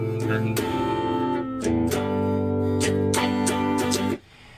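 Electric guitar playing the bridge section of a song: a few ringing strummed chords, one after another, loud and close with no voice over them.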